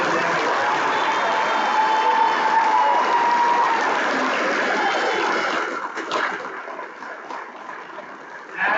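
Parents applaud middle school students at the Design and Technology Academy bridge crossing ceremony, with steady, full clapping from a crowd that thins and fades out toward the end.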